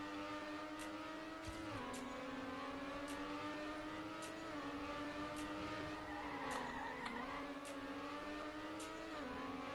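A car in the racing video game Trackmania holds around 200 km/h with a steady, droning engine whine that dips slightly in pitch now and then, accompanied by faint regular clicks.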